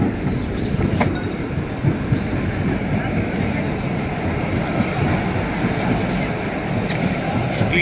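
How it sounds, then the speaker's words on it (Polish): Steady rumble of a tram rolling in with faint wheel clatter, and people talking quietly in the background. "O, tramwaj przyjechał."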